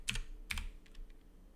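A few quick keystrokes on a computer keyboard, two short clustered bursts followed by lighter scattered taps, close and fairly quiet with no talking.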